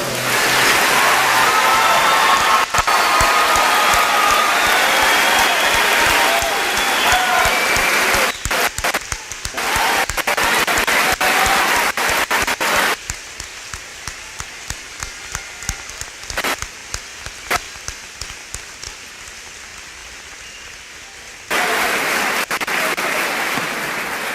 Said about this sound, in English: Nice big round of applause.